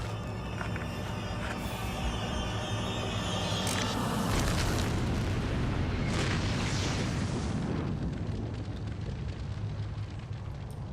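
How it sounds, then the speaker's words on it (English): A huge, sustained rumbling explosion roars loudly with deep booming energy and crackling debris, slowly fading into a lingering low rumble. "a huge explosion rang out."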